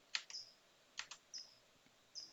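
Computer keyboard keys pressed in short bursts while rotating a 3D grid view: crisp, close clicks in pairs and single taps spread over about two seconds, quiet against a faint background hiss.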